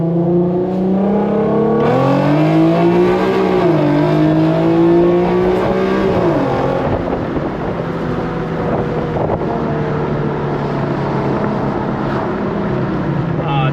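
A tuned Infiniti Q50 engine revs hard and climbs in pitch as it accelerates from a 20 mph roll, then drops and settles into a rougher roar with wind buffeting the microphone.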